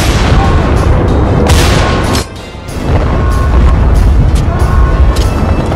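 Loud, close rifle shots from the World War II shooter Battlefield 1943 crack in quick succession with booming echoes, cutting out for a moment before more firing resumes.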